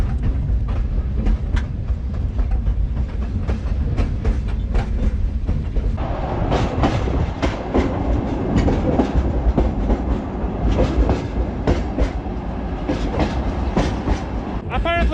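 A moving freight train in Kyrgyzstan heard from on board, with heavy low rumble and steady rhythmic clickety-clack of wheels over rail joints, loud and continuous throughout.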